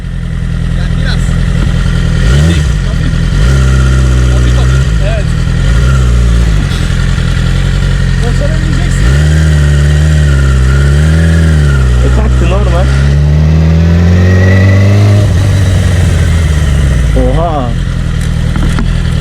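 A Yamaha R6 motorcycle engine runs loudly and steadily throughout, its pitch rising and falling in several revs, with a person talking over it.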